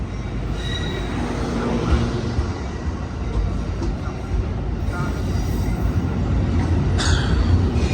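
Amtrak San Joaquin passenger train #716, led by a 2009 F59PH locomotive, rolls into Emeryville station with loud rumbling, rattling wheels and a high squeal partway through, while a faint voice talks underneath.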